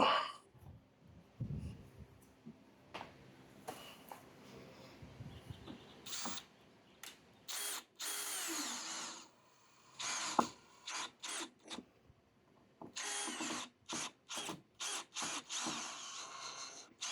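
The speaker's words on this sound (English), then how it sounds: "Grab my drill real quick." Power drill driving a screw into a workbench electrical outlet box in a garage workshop, short bursts of whirring and grinding separated by quiet gaps, close and fairly loud, with handling rubs between.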